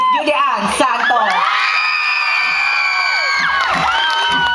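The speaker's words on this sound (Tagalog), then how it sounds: "Sabay-sabay natin palakpakan. Hiyawan, Miss Judy Ann Santos" An audience at a gay beauty pageant cheers and whoops for Judy Ann Santos, with loud sustained shrieks and shouts carrying steadily over the crowd.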